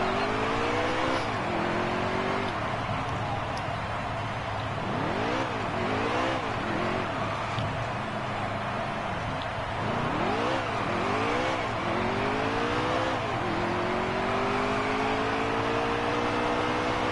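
A car engine in a video game revs hard and burns out after a wreck, pitch repeatedly sweeping up and dropping in loud continuous bursts over a steady drone and tire noise.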